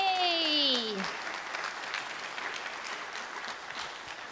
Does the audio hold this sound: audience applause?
yes